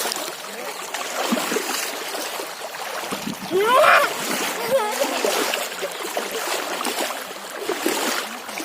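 Flood water rushing and splashing through a jasmine garden, a steady broadband wash of water heard close, with voices talking over it.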